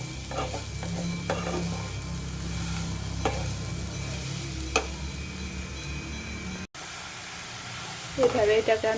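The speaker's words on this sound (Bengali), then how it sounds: "এরপর এটাকে আস্তে আস্তে করে নেড়ে নেড়ে আমি পুরটা বানিয়ে নেব।" A spoon stirs a coconut and sugar filling for steamed pitha in a pan. It gives soft, scattered scrapes and clicks over a low hiss, with a brief spoken remark and a sharper clatter near the end.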